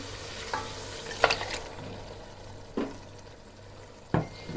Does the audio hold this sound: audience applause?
no